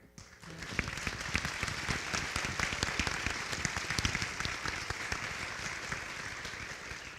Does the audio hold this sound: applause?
yes